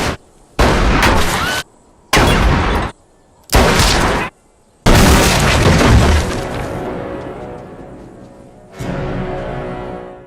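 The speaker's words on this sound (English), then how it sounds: "They're firing cannonballs at these fellas." A western film shootout with cannon fire and gunshots: several loud, sharp blasts ring out one after another with short silent gaps, then a long rumbling volley that fades into a final, lower burst.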